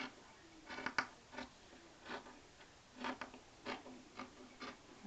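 Quilt fabric being trimmed for a strip quilt, with soft repeated snipping and rubbing cuts in an irregular rhythm, close but quiet, no talk.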